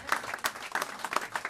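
Scattered hand clapping from an audience at a cultural stage event, a quick uneven patter of individual claps, moderately close but fairly quiet, with no voices over it.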